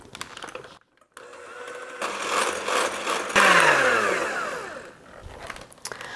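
A stand mixer whisks macaron meringue with a steady whirring motor hum that rises and falls in pitch, stopping briefly at the start and near the end, loud and close with no talking.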